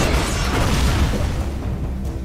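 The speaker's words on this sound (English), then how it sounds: "Okay, you are gonna rocket launcher me." A rocket launcher explosion in Prototype 2 fills the whole span as a loud, continuous, rumbling roar that dies down only slightly toward the end.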